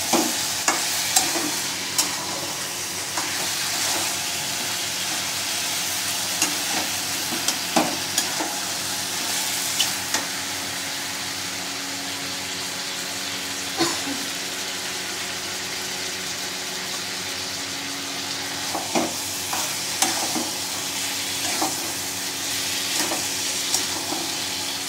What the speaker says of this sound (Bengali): দেখুন কি সুন্দর কষা হচ্ছে